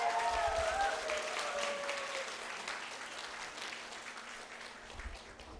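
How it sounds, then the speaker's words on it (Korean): A crowd applauds steadily at the opening of a Jongno District talk concert, a dense wash of clapping that gradually thins toward the end, with a short tone fading in the first seconds. "여기 계신 모든 분들의 힘찬 박수로"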